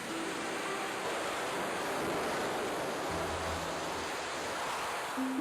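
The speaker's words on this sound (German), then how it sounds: "Kurze und damit langsamere Wellen werden von schnelleren und längeren Wellen eingeholt." Waves rolling through a wave flume, with shorter, slower waves being caught up by faster, longer ones, give a steady broadband rushing wash that stays even and fairly loud for the whole stretch with no voices.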